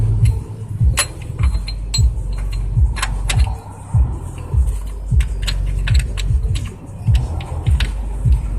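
Wrench tightening an upstream oxygen sensor on a 2007 Jeep Compass, close metallic ratcheting clicks and scraping in irregular bursts with occasional creaks, no voices.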